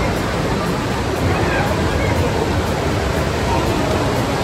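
A man-made waterfall at a hotel entrance gives off a constant, loud, broadband rush of falling water for several seconds, with no clear speech over it.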